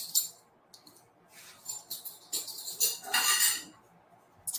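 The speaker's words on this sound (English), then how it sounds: "put this over low heat and whisk it a little bit so that the peanut butter melts" Peanut butter mixture being whisked in a pan over low heat, giving light intermittent metallic scraping and clinking, soft and close, in scattered bursts with brief pauses and no talk.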